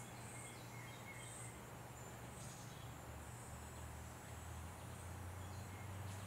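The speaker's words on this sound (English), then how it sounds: "Listen to the crickets and cicadas and birds." Crickets and cicadas buzz steadily outdoors with a few bird calls, a continuous insect drone under occasional high chirps, with no talk.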